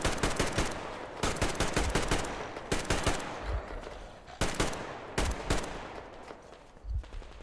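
Automatic gunfire in the video game Metro Exodus rattles in rapid bursts, several sustained volleys separated by short pauses, loud and close with no talk over it.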